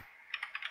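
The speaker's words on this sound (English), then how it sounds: "someone's typing" Someone types on a computer keyboard, a brief quick burst of about five light key clicks, close but soft, alone.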